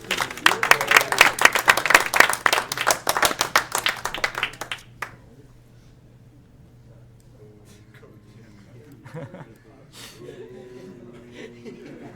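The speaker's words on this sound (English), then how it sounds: "can I please get a round of applause to introduce none other than Team Kaizen" A room full of people claps for a team introduction at a gaming event, a dense burst of applause lasting about five seconds with some chuckles, then fading to quiet murmurs and talk.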